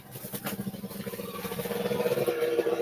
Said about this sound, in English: Sounds like an old moped